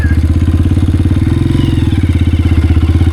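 A Honda CRF 230F dirt bike engine runs loud and close with a steady, rapid thumping idle, a continuous mechanical rumble that holds even throughout.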